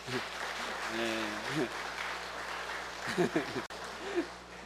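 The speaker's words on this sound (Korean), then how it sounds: "박수로서 환영을 하도록 하겠습니다" Steady applause from a church congregation fills the room throughout, with a voice speaking briefly over it.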